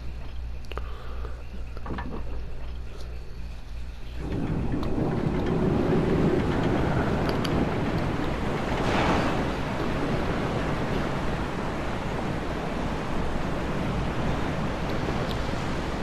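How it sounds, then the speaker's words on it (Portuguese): Water draining in the Resident Evil Remake game after a crank lowers the level, a steady loud rushing wash that swells in abruptly and continues without pause, with no talk over it. "bora usar aqui a manivela para baixar o nível da água"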